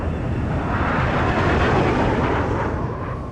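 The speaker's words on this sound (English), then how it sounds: "He calls up 2 F-16 fighters patrolling nearby." F-16 fighter jets roar past in a dense, loud, broadband rush that swells and then fades slightly, with no other sound.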